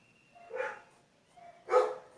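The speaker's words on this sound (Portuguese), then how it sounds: "Deve estar passando alguém na rua e os cachorros estão acuando." Neighbourhood dogs barking in the street as someone passes, two short distant bark bursts about a second apart in an otherwise quiet room.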